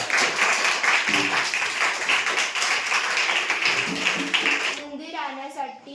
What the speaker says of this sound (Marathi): टाळ्या क्या बात